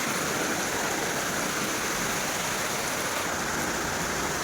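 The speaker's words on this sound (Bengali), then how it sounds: "খুব জোরে বৃষ্টি হচ্ছে।" Heavy rain pours down in a steady, dense roar that stays loud and unbroken from start to finish, with no voices over it.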